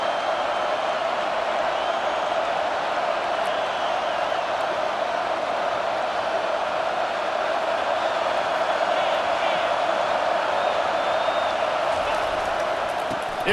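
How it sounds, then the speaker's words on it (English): A steady, dense roar from a stadium crowd fills a college football game in EA Sports College Football 25, holding an even level throughout with commentators talking over it. "This crowd trying to make life miserable for this offense."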